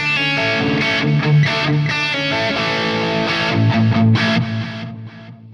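Sustained distorted electric guitar chords through a Tone King Imperial preamp with delay, echoing repeats trailing each note, ending in a fading tail.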